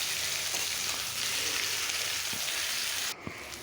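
Vegetables for a curry fry in a pan with cumin seeds and split green chillies, giving a steady, loud, close sizzle that cuts off abruptly near the end.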